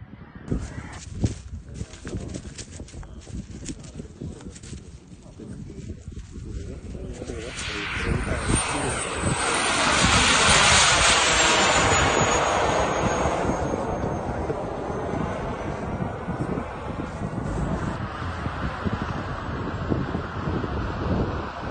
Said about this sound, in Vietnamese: Video đăng trên Telegram cho thấy đây là một chiếc UAV sử dụng động cơ phản lực mới của Ukraine.